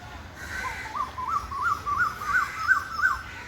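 A single koel calls a rising series of clear, repeated notes, each a little louder than the last, over a quiet background in a wooded spot in Mumbai.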